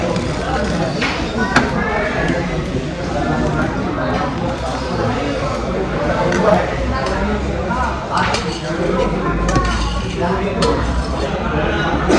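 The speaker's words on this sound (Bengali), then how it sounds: "আজকে ও আমায় ভাত বেড়ে দিচ্ছে" Rice being served onto a plate at a meal, with light clinks and scrapes of dishes and cutlery scattered throughout under steady talk.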